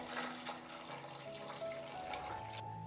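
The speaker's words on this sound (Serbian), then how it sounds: "Sipam vruću vodu, jer su tegle vruće." Hot water pours steadily into a pot holding hot jars, a continuous splashing stream that stops abruptly near the end.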